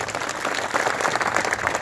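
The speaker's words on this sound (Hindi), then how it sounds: "इनका जोरदार तालियों से आप लोग स्वागत करें" A gathered crowd applauds to welcome a guest at a community meeting, a brisk, continuous round of clapping that swells slightly midway and holds steady.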